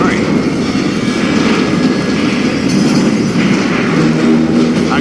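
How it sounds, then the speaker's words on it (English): Train rumbling along in the western shooter game Call of Juarez: Gunslinger, a loud, continuous low roar and clatter of wheels with a narrator's voice over it. "It was then that Jesse detached the express car from the rest of the damn train."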